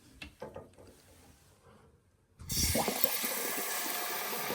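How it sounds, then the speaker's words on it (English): Toilet tank refilling after a fill valve fix: quiet clicks and mechanism sounds, then water turns on abruptly into a loud steady rushing fill that continues to the end. "your toilet will now fill up at a good pace"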